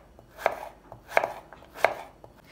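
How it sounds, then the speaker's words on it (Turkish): A knife chops pumpkin finely on a cutting board, three crisp evenly spaced strikes with faint lighter taps between, close up and with no voices. "Öncelikle kabaklarımı ince ince doğramakla başlıyorum."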